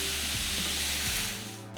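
Tomatoes and shredded coconut sautéing over a medium flame, a dense continuous close sizzle that eases off slightly near the end, no talking.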